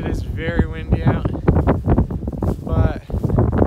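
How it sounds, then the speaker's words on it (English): Gusty wind buffets the microphone in low rumbling bursts at a pond while someone talks steadily over it, close and loud. "I apologize for the wind."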